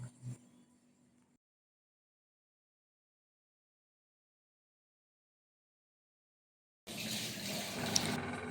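Water runs from a tap over pieces of catla fish being washed, a short steady splashing burst near the end that follows a faint rustle and a long silence.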